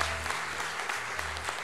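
Audience applause fills the hall at the Miss T France pageant, a dense, even burst of clapping heard close and loud.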